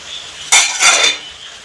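A plate is set down over a cooked egg-stuffed Thrissur-style muttapathiri pastry, with two close clinks of dishware in quick succession and a brief ceramic rattle that follows, with no talk.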